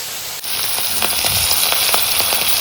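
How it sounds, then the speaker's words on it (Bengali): Hilsa fish frying in hot oil in a pan at a home kitchen, a steady close sizzle with scattered crackles and pops, no talking. "দেখো মাছটা ভাজছি"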